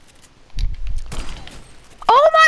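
A no-scope sniper shot in Fortnite: a sharp, loud burst followed by a noisy, crackling tail, then an excited voice shouting right after.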